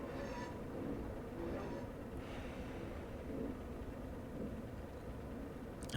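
A Class 142 Pacer train runs on the Penistone Line into Barnsley, giving a steady rumbling cabin roar with faint rattles throughout and no one talking.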